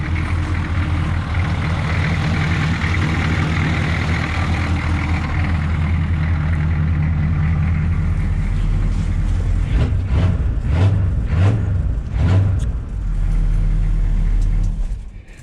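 A Chevrolet 3/4-ton crew cab long-bed pickup with an 8.1 gas engine and five-speed Allison transmission runs close by, a steady deep idle rumble with a few brief revs near the end.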